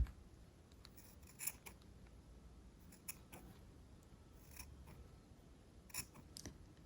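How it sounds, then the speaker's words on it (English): Scissors trim stray strands of yarn from a pompom, giving a few faint, quiet snips spaced a second or so apart over a soft rustling background. "you see the ones that stand out. You trim them off."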